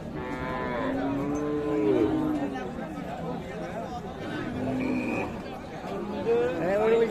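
Cows at a livestock market where a cow with her calf is being sold, lowing repeatedly and loudly in long drawn moos, with crowd chatter and voices talking throughout.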